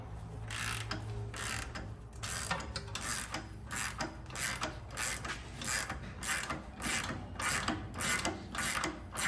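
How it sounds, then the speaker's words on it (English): A hand ratchet turns on a rear shock bolt of a BMW 228i/235i, giving a steady series of rapid clicking bursts, close and fairly loud, repeating in regular strokes with no talk. "So let's try this ratchet first."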